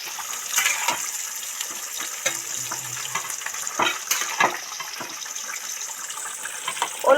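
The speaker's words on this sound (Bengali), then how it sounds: "এবার এটা খুলে দেখি টকবক করে ফুটছিল কমিয়ে দিয়েছি" Covered pot of cauliflower, potato and prawn simmering on the stove, a soft bubbling and sizzling hiss with faint lid and stirring clatter, steady and close with no voices.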